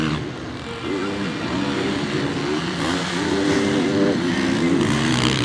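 Motocross bikes race at the MXGP round in Trentino, engines screaming on the rev limiter: loud, wavering two-stroke and four-stroke buzzing with rising and falling pitch as bikes pass, under a commentator's excited voice.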